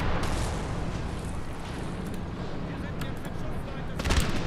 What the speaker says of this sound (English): We've at least got musket fire rolling there.